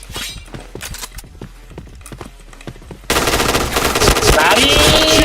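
Rapid gunfire bursts in a shooter video game, scattered shots at first and then a louder sustained barrage, with no talking over it.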